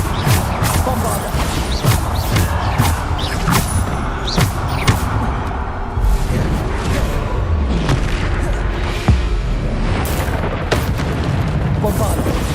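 Bombarda explosion spells from the video game Hogwarts Legacy burst repeatedly in loud booming blasts amid continuous combat noise, with character voices calling out spells between the hits.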